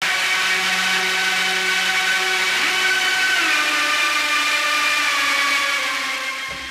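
Distorted, bit-crushed synth lead sound soaked in delay and Valhalla reverb, in a metal production, playing a steady sustained gritty tone alone and loud, tailing off at the end.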